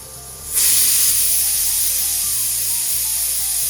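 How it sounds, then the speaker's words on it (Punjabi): A small pressure cooker cooking dal lets off a sudden bright steam hiss that rises within the first second, then holds as a steady close, loud jet of vapour until the end. "ਉਹਦੀ ਛੋਟੇ ਜਿਹੇ ਕੁੱਕਰ 'ਚ ਉਹਦੇ ਜਿੱਡੀ ਕੁੱਕਰ 'ਚ ਉਹਦੀ ਦਾਲ ਤਿਆਰ ਹੋ ਰਹੀ"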